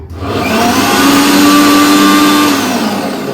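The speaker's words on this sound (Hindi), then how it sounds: "इसे हम मिक्सी में पीस लेते हैं।" A loud, steady whirring grind from a kitchen mixer grinder grinding cashews, running continuously with a high motor whine and no talking.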